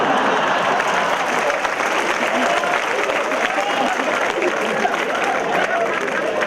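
A university audience at Chandigarh University applauds a comedian, a steady wash of many hands clapping close and loud throughout, with a faint murmur of voices in the crowd.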